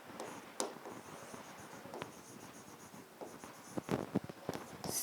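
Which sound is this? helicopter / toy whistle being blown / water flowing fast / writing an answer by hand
writing an answer by hand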